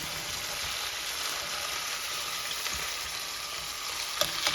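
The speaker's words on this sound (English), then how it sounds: "So we're just going to flip these over and let them cook another 2 to 3 minutes on the other side." Broccoli-stuffed chicken breasts frying in a pan give a steady, close, loud sizzle that holds throughout, with a few faint clicks near the end and no voices.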